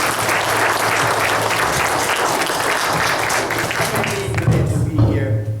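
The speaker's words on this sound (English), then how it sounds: "I would like for everyone that's sitting in the audience to give yourself a clap" Audience members seated at a school board meeting clap together in a sustained round of applause that thins out toward the end as a voice begins to come through.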